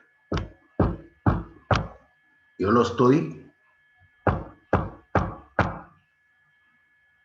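Knocking on a door: four sharp, evenly spaced raps, then a person speaks briefly, then five more knocks at the same steady pace, close and clear in a quiet room.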